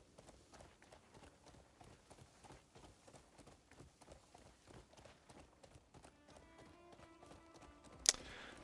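Rhythmic clip-clop of horse hooves as a rider trots along in a video game, steady close footfalls repeating throughout, with a brief sharp chime near the end.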